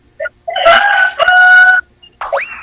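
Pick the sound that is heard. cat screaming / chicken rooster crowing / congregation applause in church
chicken rooster crowing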